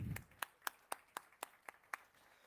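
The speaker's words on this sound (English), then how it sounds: "huge round of applause for Dr." At a global summit opening address, hands clap about eight times in a sharp, evenly spaced rhythm, quiet and a little distant, with no voices between the claps.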